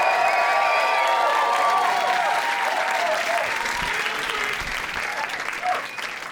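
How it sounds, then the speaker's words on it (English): Audience at a comedy night applauds and cheers as a comedian named Rael takes the stage, a dense wash of clapping with whoops and voices mixed in, steady and loud before gradually thinning out. "give a big round of applause to Rail"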